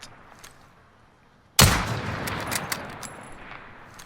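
A single sharp, loud shot from a Gewehr 98 bolt-action rifle cracks out after a quiet stretch, followed by a ringing, echoing decay with a few faint metallic ticks.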